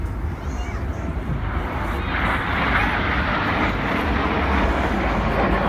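Red Arrows jets flying the Apollo formation display over Ayr beach, a broad, steady roar of jet noise building slightly, distant but loud, with faint talk mixed in.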